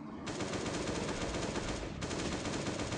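Rapid automatic Kalashnikov fire in a video game, two sustained bursts of dense rattling shots separated by a brief drop, loud and close with no talking.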